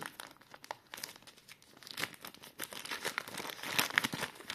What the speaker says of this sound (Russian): Сейчас мы откроем и заценим посылочку.